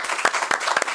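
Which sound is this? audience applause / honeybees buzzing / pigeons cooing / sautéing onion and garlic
audience applause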